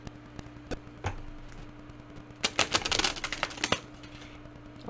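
Prism oracle cards being shuffled by hand, a soft papery riffling and clicking that swells into a quick burst of dense card flicks, close and fairly quiet with no talking.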